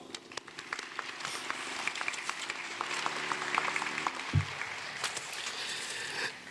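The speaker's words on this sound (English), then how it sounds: "Please help me in giving them a warm round of applause." Fairly quiet applause rises from an audience at a university graduation ceremony for the wind ensemble and vocalist, scattered claps forming a steady patter with a brief thump partway through.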